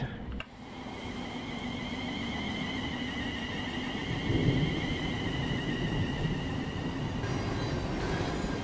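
A Class 700 electric train in Train Sim World 3 pulls away through snow, a steady rumbling drone with a faint rising whine that holds through the whole stretch, with no talking over it.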